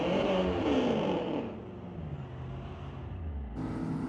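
A Corvette drag racing down the quarter-mile strip at Mission Raceway Park, a loud engine roar that fades as it pulls away, with another engine rising at the end.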